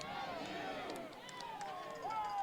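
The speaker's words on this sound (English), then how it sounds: "Got a Cal U chant in the background. You can hear that from the crowd getting into it" Spectators at a Cal U college football game against Clarion chant together in the distance, a sustained rising and falling crowd roar heard faintly from afar.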